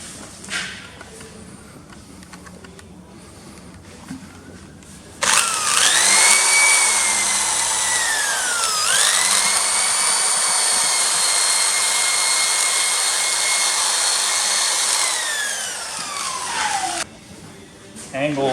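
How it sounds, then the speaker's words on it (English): A 2 mm drill bit bores into a steel-wire-reinforced hydraulic hose, giving a loud, high motor whine that starts abruptly, dips briefly in pitch, then holds steady for about twelve seconds before cutting off. "a 2 millimeter drill and see what happens."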